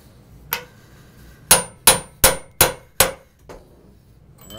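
A hammer strikes a U-joint to drive it through: one lighter tap, then five loud, evenly spaced metallic clanks, each ringing briefly, then a faint final knock.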